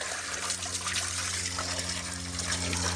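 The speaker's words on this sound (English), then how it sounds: "So now I've turned the hose up" A garden hose is turned up to spray water onto an air conditioner unit during cleaning, making a steady, close rushing hiss with no pauses and no voices.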